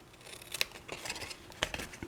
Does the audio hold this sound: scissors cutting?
yes